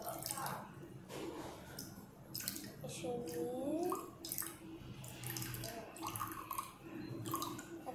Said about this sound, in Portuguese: Primeiro a gente vai botar água.